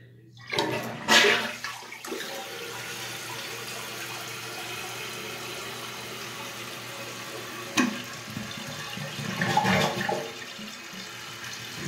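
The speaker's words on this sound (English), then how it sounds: "just give it a flush" A 1989 American Standard Cadet toilet flushing, a steady rushing of water in the bowl with gurgles and louder surges near the start and end, close by with no talking.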